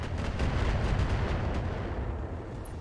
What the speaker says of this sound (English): We're going to continue firing LRMs at this Phoenix in hopes that we take out that CT.